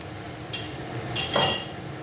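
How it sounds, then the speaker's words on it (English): Garlic and ginger paste, red chilli paste and coriander stalks cook with onions in a pan for a Tikka Madras, a steady low sizzle broken by a few sharp clinks and scrapes of a utensil against the metal. "To that I'm adding my garlic and ginger paste, some red chilli paste, some coriander stalks, and just cook that out."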